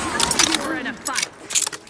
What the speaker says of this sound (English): Replenishing my firearm.